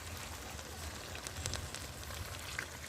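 Chicken pieces sizzle in a pan while being cooked into chicken kosha, a faint, steady crackle and hiss throughout with a few sharper pops.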